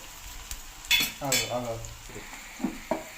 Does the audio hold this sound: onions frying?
yes